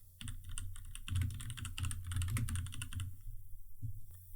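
Typing on a computer keyboard, a dense close run of quick clicking keystrokes for about three seconds, then silence broken by one last tap, fairly quiet and with no voices.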